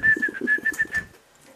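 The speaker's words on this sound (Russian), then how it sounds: "Поет, потихонечку поет, поет." A pet bird sings indoors, close by: a run of short, rhythmic chirping and whistled notes for about a second, then quiet.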